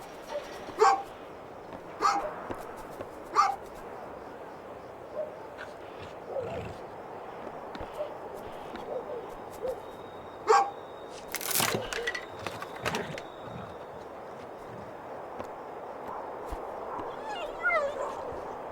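A dog barking in A Juggler's Tale, several sharp separate barks spaced across the stretch amid a narrating voice and other game sounds.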